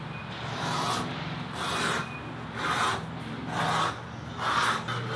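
Leather edges for a set of suspenders are beveled with a hand tool, producing five evenly spaced rasping scrapes close up, each about a second long with brief pauses between, and no talking.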